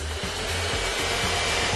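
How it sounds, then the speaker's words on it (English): Neato XV11 robotic vacuum cleaner running, a steady loud motor whir with a broadband airy hiss and a low hum that pulses in a slightly uneven rhythm, heard alone without voices. "Nito Robotics has been developing the XV11, an all-floor vacuum bot that maps out its path using a laser technology called RPS"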